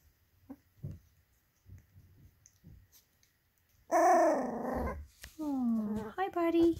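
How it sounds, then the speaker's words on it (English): Three-week-old puppies growl and yip in a pile, a few soft grunts and whimpers at first, then a loud run of high squealing barks and growls, close by, while someone talks to them. "Puppy pile."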